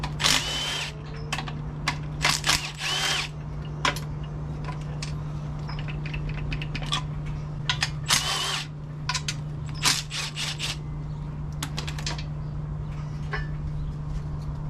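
Hand tools work on a junkyard Honda K24a2 engine block while the oil pump and windage tray come off: scattered metallic clicks, ratchet ticks and clanks over a steady low hum.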